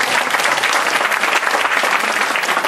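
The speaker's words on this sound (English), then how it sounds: "we could give them some applause for all the effort they made" Steady applause from a crowd of guests at a wedding rehearsal dinner and tea ceremony, honoring a couple's grandparents; dense, continuous clapping fills the room evenly for the whole stretch without a break.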